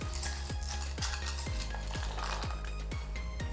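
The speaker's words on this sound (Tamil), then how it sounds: "தண்ணி வந்து நல்லா கொதிக்க ஆரம்பிச்சிருச்சு. ஸோ இந்த ஸ்டேஜில் நம்ம எடுத்து வச்சுருக்கிற பாஸ்தாவை வந்து போட்டுருவோம்." Pasta is stirred in a pot of boiling water, a utensil scraping round in steady strokes about twice a second over the continuous low bubbling rumble, close and with no talking.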